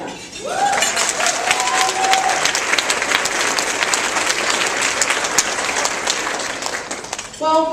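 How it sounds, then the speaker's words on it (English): Sustained applause from a luncheon audience at a keynote event, loud and steady for several seconds, with a voice speaking briefly at the start and again at the end. "I think that all of you deserve a round of applause right now."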